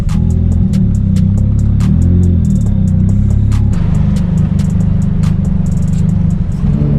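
A loud, straight-piped Nissan S15 rumbles through city streets, its deep droning exhaust filling the cabin with throttle swells and a brief dip, steady and close throughout.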